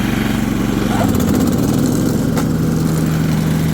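A John Deere LT160 lawn tractor runs at half throttle as its mower deck engages, the close, steady engine drone shifting in tone about a second in, then holding a constant hum.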